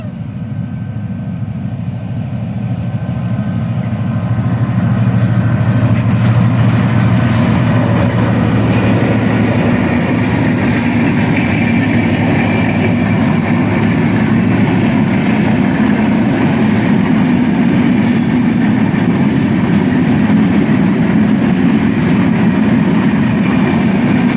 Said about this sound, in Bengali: ফাইনালি ট্রেন চলে আসছে